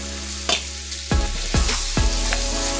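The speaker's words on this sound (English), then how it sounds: "And let's get that butter nice and stirred in there." Butter being stirred into a jambalaya pot, with three or four distinct scraping, clattering strokes of a spoon against the pot over a steady background hum, no talking.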